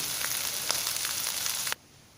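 Peppers and mushrooms sizzle steadily in a frying pan, a close, dense hiss with small pops that cuts off abruptly near the end, leaving near silence.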